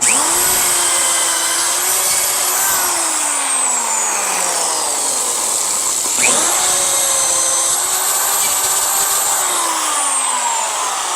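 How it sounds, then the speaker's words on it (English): A power drill whines loudly and steadily while drilling into wood, its pitch sliding down and back up twice as it bites in, with no talking. "Get a drill hooked up."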